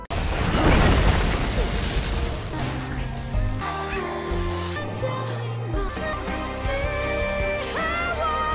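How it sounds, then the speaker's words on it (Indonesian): Lava volcano erupting in the animated film Dragon Nest, a loud opening boom with a rumbling crash that settles into dramatic orchestral music, with a sustained roar underneath. "Tapi tiba-tiba gunung lavanya meledak."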